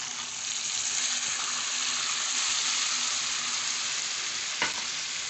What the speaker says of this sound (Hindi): ½ गिलास से थोड़ा ही ज़्यादा पानी डालूंगी